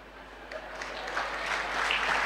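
A crowd claps at a Tamil speech event, applause building steadily from scattered claps into a broad, sustained wash of sound.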